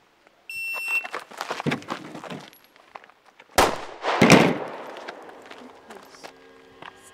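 A shot timer beep at a shooting range is followed by sharp, loud gunshots, with scattered impacts and shuffling movement between the shots.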